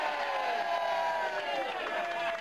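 Studio audience on a live British breakfast TV show cheering and shouting, a dense, loud, continuous crowd roar with whoops, sustained from start to finish.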